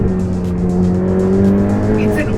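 Ferrari 488 Pista Spider with a twin-turbo 3.9-liter V8 making 711 horsepower, its engine holding a steady, loud idle-to-rev drone with rich low harmonics, running continuously throughout.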